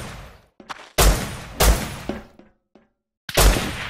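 Gunfire in the survival video game Rust during a base attack: several loud, sharp shot bursts with echoing tails, separated by short silent gaps, plus a few fainter distant cracks.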